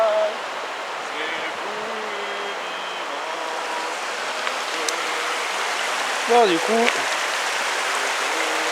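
Steady rain falls near a mountain stream at Prapic, making an even, hissing wash throughout, while someone speaks briefly at the start and birds chirp faintly now and then.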